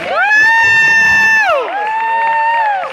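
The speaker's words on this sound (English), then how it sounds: "Another round of applause for Leah." A seminar audience cheers loudly with sustained, rising whoops, two long swelling vocal shouts over a dense crowd roar and little distinct clapping.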